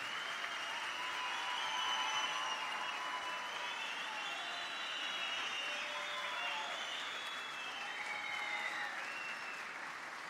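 A concert crowd at a memorial concert for Aşık Veysel gives steady, enthusiastic applause, with whistles and cheers cutting through the dense clapping.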